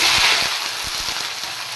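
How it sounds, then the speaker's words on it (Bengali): Potatoes and soybean chunks fry in hot oil with bay leaf, dried chilli and cumin, a loud continuous close sizzle with scattered soft pops. "এবার আমি একবার এখানে সয়াবিন আর আলু ফ্রাই করে তারপর মশলা দেবো"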